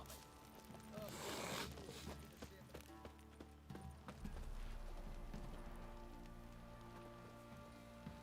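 The horse Roach's hooves clip-clopping in The Witcher 3, a steady rhythm of hoofbeats with rain falling and ambient game sounds around them, no voices.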